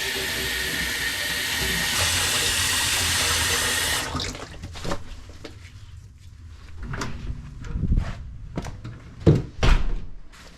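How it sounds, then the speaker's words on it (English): Tap water runs steadily for about four seconds to rinse a KTM dirtbike air filter, then shuts off. Scattered close knocks, thunks and handling clatter follow, like a door or cupboard closing. "bring this in the house and rinse all that away"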